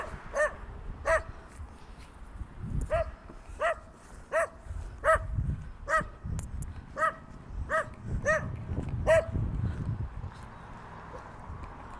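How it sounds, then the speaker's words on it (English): A dog barks outdoors in a rapid run of sharp, evenly spaced barks, fairly close, pausing briefly and then resuming, over light background rumble and footsteps. "Oh God, this dog."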